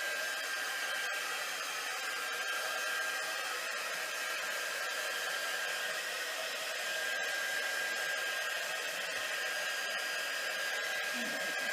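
A hair dryer blows steadily on an art journal page in an altered book, a constant close, loud whirring hiss that runs unbroken for the whole stretch with no talk.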